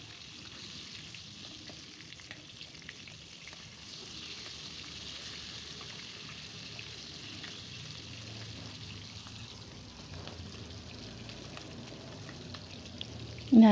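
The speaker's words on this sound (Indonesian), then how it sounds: "Kita goreng bolak-balik sampai ikannya mateng," Pindang fish frying in oil with sliced shallots and garlic, a steady, soft sizzle with light crackle throughout, close and even, ending with a short louder clatter.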